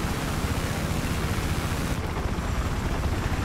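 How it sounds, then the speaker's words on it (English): An enemy helicopter in Rainbow Six Siege gives a steady, loud broadband whooshing roar with a low chopping rumble, constant throughout without any talk. "Enemy chopper inbound."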